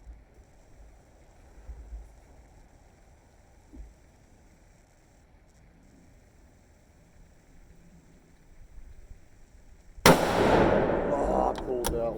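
A Savage 110 Predator rifle chambered in .243 Win fires one loud, sharp shot up close after several seconds of quiet outdoor background, and the report rings out and decays over the final two seconds.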